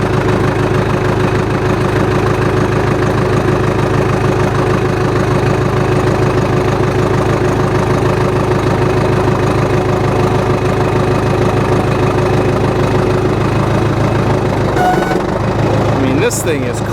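A John Deere 450 crawler loader's engine runs at low throttle while the bucket lifts slowly, giving a steady, close, continuous rumble with a faint knocking. Someone talks over it, and a brief louder shift comes near the end.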